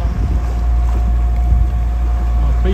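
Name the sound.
sailboat under engine power in rising wind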